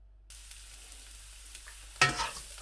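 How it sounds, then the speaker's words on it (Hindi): Onions drop into hot oil in a pan for chicken noodles. After a quiet low hum, a sudden close sizzle bursts out, then settles into a softer crackle as they begin to fry. No one speaks. "यूँ ही ऑयल गर्म होता है मैं इसमें प्याज जो है डालकर पकाना शुरू करूँगा।"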